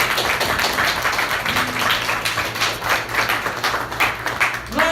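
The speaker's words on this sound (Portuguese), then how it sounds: "Aplauda o Senhor" A church congregation claps together in a dense, uneven patter of many hands, continuous and fairly near, with soft voices murmuring underneath.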